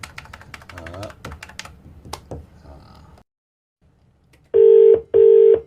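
A telephone is dialed: a few quick key presses, a pause, then two loud, evenly spaced ringback tones close by, following some brief handling noise.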